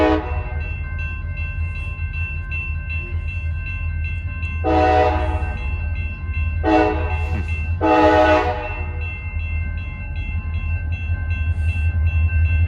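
A CSX locomotive running light with no cars rumbles past at close range, sounding its horn in three distinct blasts, short bursts then a longer one, over a steady low engine drone.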